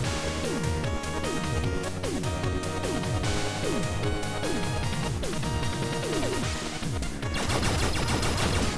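Rapid weapon fire from the wave gun in Blaster Master Zero, a steady run of dense repeated blasts with descending sweeps layered over constant game music and effects, loud and close throughout.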